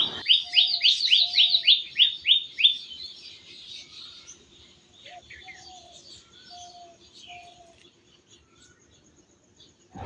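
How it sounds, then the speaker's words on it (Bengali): Birds calling in a garden at dawn on a rainy day: a burst of rapid, bright chirps, then scattered tweets and soft repeated low coos, moderately near. "আমাদের এখানে না ভোরবেলার দিকে খুব সুন্দরভাবে পাখি ডেকে ওঠে"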